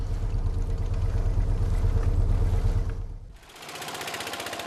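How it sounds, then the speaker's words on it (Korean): A boat engine drones steadily with a rhythmic throb on the Kumai River, then shifts pitch and tone as the motor changes speed, close and loud with no talking. "취재진은 이곳의 공영방송인 TVRI와 함께 쿠마이 강에서 보트를 탔습니다"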